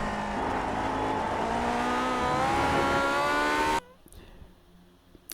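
Lotus 49 race car engine in the iRacing simulator at Sonoma, a loud sustained high-revving scream climbing through the gears, then cutting abruptly to near silence with faint mechanical ticks near the end.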